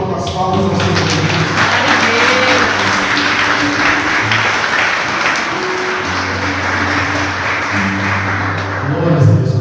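A church congregation applauds together in steady, sustained clapping that fills the space, with voices and tonal sound mixed underneath throughout.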